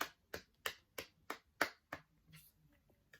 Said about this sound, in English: The whole team, a round of applause.